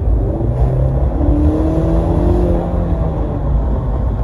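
A 2018 Ford Mustang EcoBoost convertible in sport mode accelerating hard, its engine note climbing steadily in pitch through the rev range, loud and close with no talking.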